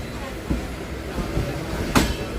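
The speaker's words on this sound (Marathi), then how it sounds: "ते बघा मित्रांनो, समोर जात आहे कोकण कन्या एक्सप्रेस" Konkan Kanya Express passing through Diva Junction, heard from an adjacent train: a steady rolling rumble with scattered wheel clacks and a sharp, loud burst near the end.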